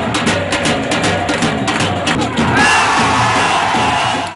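A loud, dense crowd of passionate football supporters in Votuporanga, Brazil, cheers and roars continuously, with shouts and whoops rising over the sustained din, close and full throughout.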